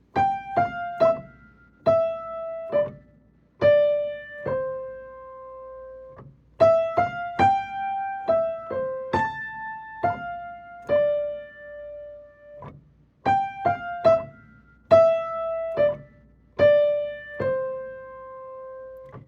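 Right-hand piano part of the piece, played alone as clear, bright struck notes in short rhythmic groups, with pauses between the phrases and each note decaying naturally.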